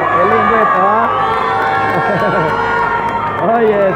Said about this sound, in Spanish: Y ahí está Leo Cuadra, un aplauso para estos niños